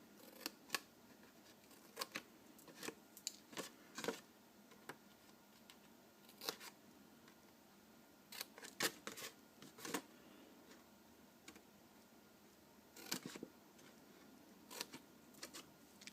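Scissors snip small triangles from scored envelope paper, giving a scattered series of faint, close, crisp clicks and cuts with quiet gaps between them.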